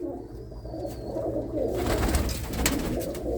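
Racing pigeons, mostly hens, coo continuously inside a rooftop loft, a dense layered murmur of low throaty calls close by, joined by a brief thin high sound early and rustling flutter later, with no talking.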